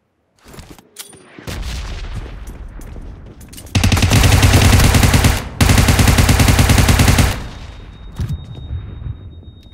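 Rapid automatic gunfire from PUBG Mobile in first-person play: scattered shots lead into loud, dense sustained bursts with a brief break midway, then a few trailing pops and clatter.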